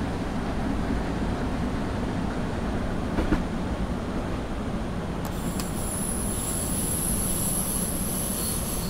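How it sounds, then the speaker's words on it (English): A BR 426 electric multiple unit brakes in Train Simulator 2015 on the Augsburg to Munich route in Germany. There is a continuous rolling rumble, and a high, thin brake squeal joins in midway and holds to the end. "I'm now going to start braking for the upcoming 40 kilometer per hour speed restriction"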